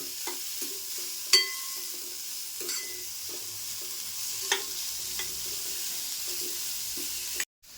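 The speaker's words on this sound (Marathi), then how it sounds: "कांदा पण असा मऊ होईपर्यंत परतून घेते थोडंसं मऊ झालं पाहिजे" Onion stirred and sautéed in a pan for fenugreek (methi) bhaji, heard as a steady close sizzle with scraping spatula strokes and a few light clinks, with no talk.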